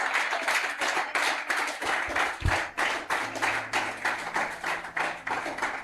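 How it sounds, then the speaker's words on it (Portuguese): A church congregation claps for Jesus during a sermon, a continuous crowd of hands beating in steady rhythm at even loudness, with a brief low thump partway through. "Pode aplaudir só mais um pouco a Jesus?"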